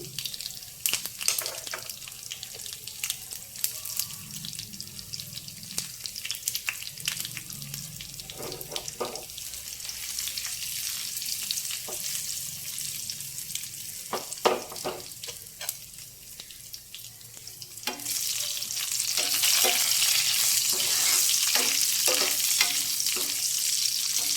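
A tempering of mustard seeds, garlic, urad dal, cumin and dry red chillies fries in hot oil for mango dal, a continuous close hiss with scattered crackles that swells much louder in the final few seconds.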